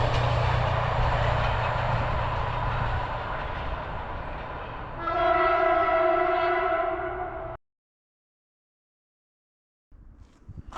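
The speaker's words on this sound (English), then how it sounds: "There are trains, but they do not stop, just passing by." A train rumbles past a closed-down station in rural Telemark, Norway, loudly with rolling wheel noise, then a long horn blast sounds before everything cuts to near silence.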